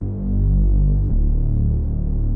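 A steady, thick synth tone with a slow throbbing beat from slightly mistuned oscillators, holding one pitch then shifting briefly before continuing, wide and sustained.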